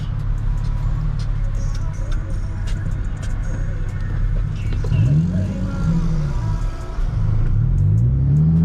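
Nissan 350Z with a single exit exhaust, downshifting with rev-matched blips: a steady close engine drone rises in two sharp revving sweeps near the end, loud throughout.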